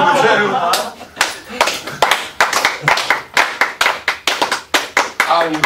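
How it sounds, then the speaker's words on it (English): A group of people doing a slow clap on a music video shoot, sharp hand claps spaced about a third of a second apart and gradually speeding up, with voices and laughter in between. "And one last slow clap."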